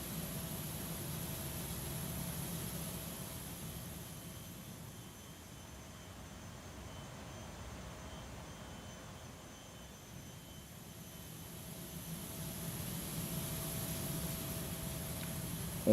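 A FedEx Boeing 777 freighter in the X-Plane 12 flight simulator starts its jet engine during snowy ground operations. A faint, steady roar with a thin high whine swells slightly and stays distant.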